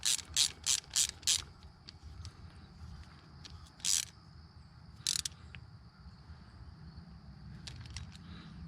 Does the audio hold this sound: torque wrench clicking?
yes